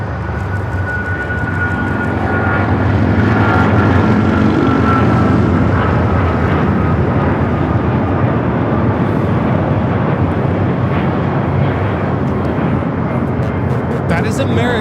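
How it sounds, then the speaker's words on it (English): An American Airlines Boeing 777-200ER takes off from LAX bound for Miami, its jet engines roaring in a loud, steady, broadband rush that holds throughout at close range. "American Airlines Flight 2431 taking off to Miami, Florida on the 777-200ER"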